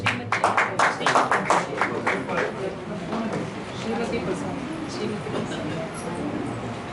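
Audience applause from a gathering, a short burst of rhythmic clapping that fades into murmuring voices and crowd noise.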